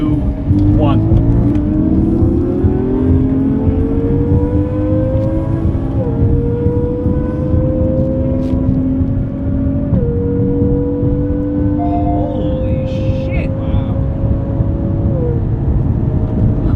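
A Ferrari 458 accelerates hard from a launch, its loud engine note climbing steadily through the gears with brief shift breaks, close and dominant for the whole stretch.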